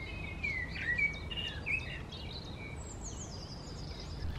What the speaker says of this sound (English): As I stand here and listen to the bird song, can you hear it?